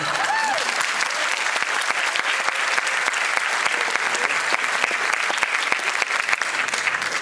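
A studio audience on a talk show applauds steadily and loudly throughout, a dense wash of many clapping hands with no break.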